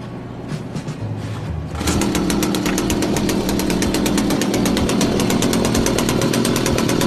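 A small machine engine in for maintenance idles roughly, then revs up at about two seconds into a loud, steady buzzing drone with a fast rattling pulse that holds for the rest of the clip.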